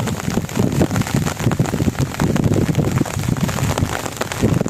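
Heavy rain pours steadily, a dense constant wash of drops hitting surfaces with no pauses, loud and close throughout.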